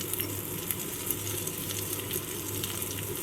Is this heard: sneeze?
no